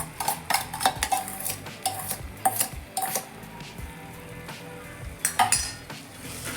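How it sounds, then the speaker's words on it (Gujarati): Edible gum (gond) mixture with ginger paste stirred steadily in a pan for a Gujarati winter gond pak, giving repeated scraping and clinking of a spoon against metal, close and fairly loud, with no talking. "અને હવે સતત હલાવતા રહીશું અને બધું જ મિક્સ કરી લઈશું"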